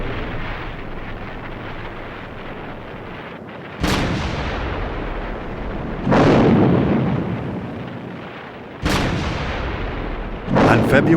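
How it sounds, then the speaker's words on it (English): Heavy naval shelling and rocket fire pound Iwo Jima, with several loud, booming blasts at irregular intervals over a constant rumbling roar of bombardment. "The morning erupted into a firestorm of shells and rockets."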